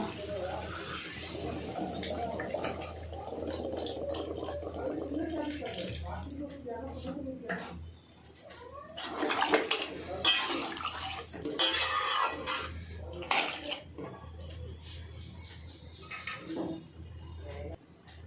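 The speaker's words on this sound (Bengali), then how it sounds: "এবার আমি দিয়ে দেবো জল" Water is poured into a bowl of eggplant and potato mixture, a gushing splash that swells in the second half among clinks of a pot and utensils, with a person talking nearby.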